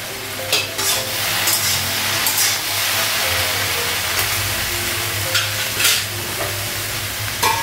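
Onion fries in hot oil in a pan, giving a loud, steady sizzle close by, punctuated by repeated scraping stirs of a spatula against the pan.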